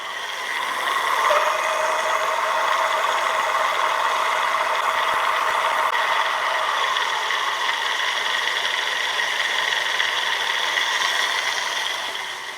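A Lectric XP e-bike hub motor runs at pedal assist level 5 with a steady, even electric whine and faint rattle, holding constant for several seconds with no voices.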